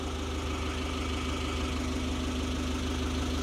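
A forklift engine idles steadily nearby, a constant low rumble with a faint knocking texture that holds unchanged throughout, with no talk.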